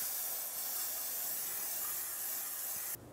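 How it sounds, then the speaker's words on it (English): Brake parts cleaner sprayed from an aerosol can onto the rear main seal area of a 2007-2013 Chevy Silverado, a loud continuous hiss lasting about three seconds before cutting off abruptly. "Just brake parts cleaner."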